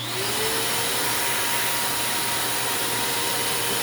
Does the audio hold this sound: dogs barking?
no